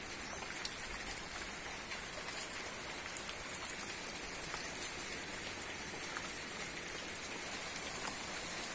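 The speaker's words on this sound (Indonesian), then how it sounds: "Turun hujan deras lagi." Heavy rain pours down over a village in a dense, continuous hiss of drops striking surfaces, steady and close throughout, with no voices.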